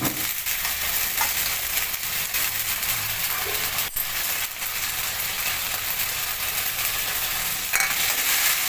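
Garlic paste is stirred into meat masala frying in a pan, giving a loud, continuous, close sizzle with occasional spatula knocks.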